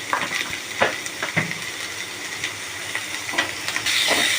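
Onions sautéing in a pan of oil with potatoes that were boiled with salt, giving a steady close hiss and sizzle, broken by soft stirring scrapes and a brief louder burst near the end.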